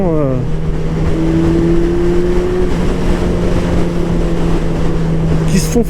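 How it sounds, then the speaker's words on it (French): Steady engine drone and exhaust rumble at cruising speed, with wind buffeting the microphone throughout. "une moto qui a quand même un moteur rageur, une sonorité tellement agréable avec un petit pot"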